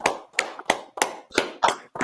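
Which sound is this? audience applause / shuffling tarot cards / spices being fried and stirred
audience applause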